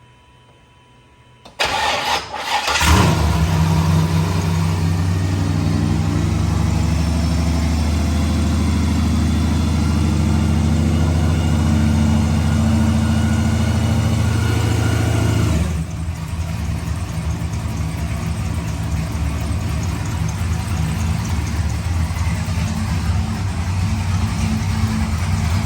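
A 1969 Pontiac GTO engine cranks briefly, catches and fires up, then runs loudly with a deep steady rumble that drops to a quieter idle partway through, with no talk over it.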